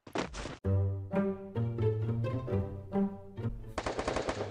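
Rapid gunfire in a competitive ranked shooter match rings out in close bursts, a machine-gun-like stream of shots followed by a dense final volley, with no talk over it.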